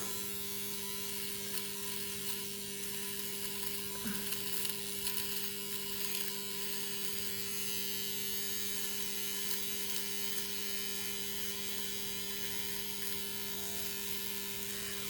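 A small electric facial hair remover, used at home on eyebrows, runs with a steady high-pitched motor whine and a constant hum, close and unbroken throughout with no speech over it.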